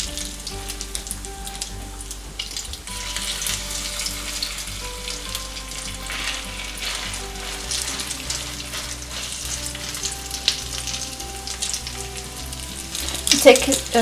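Tuna and mackerel cakes fry in a hot pan with a steady, moderate sizzle that holds throughout, joined by a brief louder crackle near the end.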